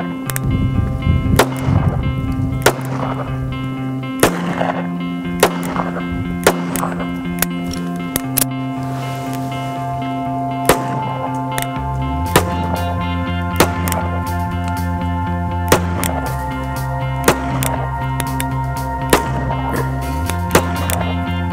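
A handgun fires Black Hills HoneyBadger ammunition at a 25-yard target: single sharp shots spaced a second or two apart over a long string, partly masked by steady background music.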